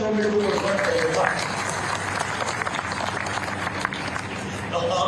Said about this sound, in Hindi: हम सब के लिए अपने अपने जब ताली बजे तो दिल से बजे